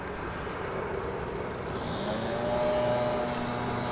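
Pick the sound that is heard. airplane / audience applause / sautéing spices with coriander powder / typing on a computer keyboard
airplane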